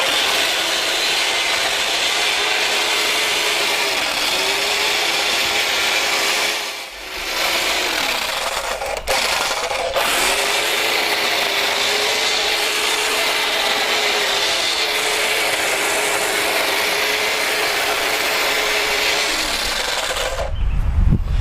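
A corded electric string trimmer runs steadily and close by while cutting grass, a continuous whine held for about twenty seconds with a brief dip partway through and a louder thump near the end.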